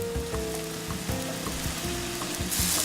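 Pasta going straight from the pot into a hot pan for a dish with quail eggs and caviar, a loud continuous frying sizzle with stirring clatter and bursts of hiss.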